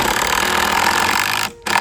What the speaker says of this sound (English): we are going to pre-drill them so that way we don't crack the rail